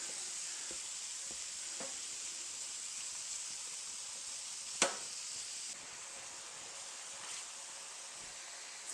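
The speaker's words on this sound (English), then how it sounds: "now you just want to cook it, breaking it up with your spatula" Ground beef sizzling steadily in a hot pan while a spatula breaks it up, a continuous fry hiss with occasional soft scraping taps and one sharp click partway through, close and alone.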